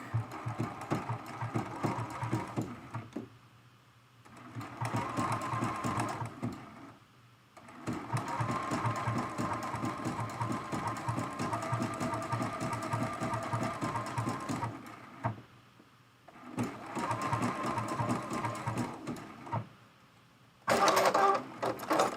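Sewing machine running in bursts while stitching a blanket stitch on an appliqué mug rug: steady mechanical whirring in long runs separated by brief pauses, close and fairly loud, with a short sharper burst near the end.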